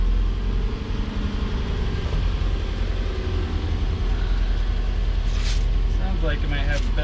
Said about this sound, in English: Flip the key, press on the clutch, hit the starter.